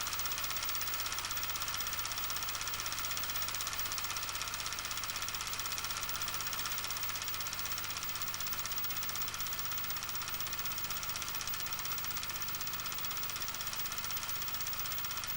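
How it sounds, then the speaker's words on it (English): A car engine idles steadily in a 1944-style television advert, a continuous mid-pitched rumble with faint knocking vibration, unbroken and fairly close, with no talk. "Careful, don't touch that engine,"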